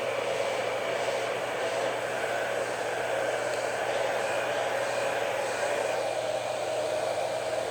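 Hair dryer with its concentrator nozzle removed, blowing a steady, loud broadband rush of air across the whole stretch while drying a large beard, with no talking.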